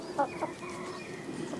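Chickens and a big young rooster cluck in a coop with wood shavings, two short clucks near the start over a steady low background murmur.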